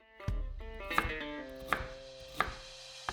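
Three or four firm knife chops cutting ginger into large chunks on a cutting board, evenly spaced and close, with a faint ringing tone underneath.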